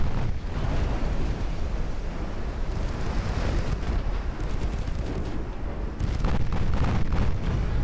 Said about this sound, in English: You've had a whole turret blown off.